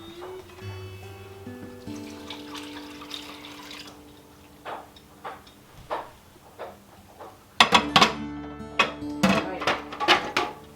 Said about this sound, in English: I give it a stir so that the two temperatures get mixed together